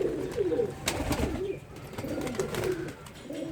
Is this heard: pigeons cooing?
yes